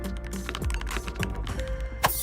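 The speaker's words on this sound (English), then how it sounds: "Thanks to its ROG NX snow mechanical switches and double-shot PBT keycaps, typing becomes a whisper." Typing on a gaming mechanical keyboard with ROG NX Snow linear switches and double-shot PBT keycaps: a quick, steady run of soft, muted keystrokes, close and fairly quiet, with no voices.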